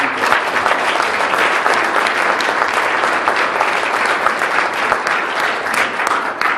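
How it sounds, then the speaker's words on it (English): A conference audience breaks into loud, sustained applause, a dense wash of many hands clapping steadily and close for the whole stretch. "let's have a great big round of applause for everyone"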